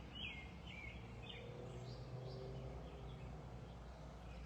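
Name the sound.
birds chirping outdoors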